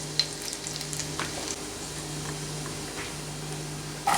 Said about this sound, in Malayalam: ചെറുതായിട്ട് അരിഞ്ഞ് വെളുത്തുള്ളി ചേർത്ത് കൊടുക്കാം